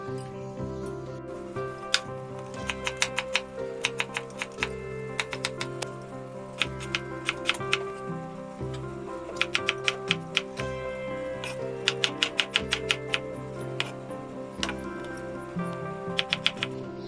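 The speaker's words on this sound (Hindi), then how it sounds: "अब हम इन सब्जी को काट लेते हैं।" Knife chopping beetroot and carrots on a cutting board, with quick bursts of sharp taps in uneven runs over a steady background hum.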